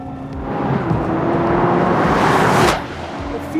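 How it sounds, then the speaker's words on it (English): Czinger 21C hypercar rolling at low speed in first gear, with a steady close mechanical drone and drivetrain whine, transmission clunks mixed in, easing off sharply near the end. "Makes a lot of mechanical noises at low speed. You hear some kind of transmission clunks."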